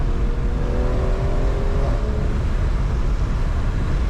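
A stage 2 tuned BMW M340 making about 500 hp accelerates on the road, its engine a loud, steady roar heard from inside, with a rising tone sweeping upward over the run.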